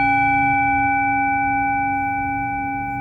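Singing bowl held in the palm ringing with a steady, sustained tone made of several clear overtones, slowly fading in a quiet room with no talking.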